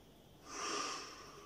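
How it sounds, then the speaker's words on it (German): A single deep breath, drawn in and released over about a second, close and soft, rising and fading during a hypnosis session with no talking. "Tief atmen."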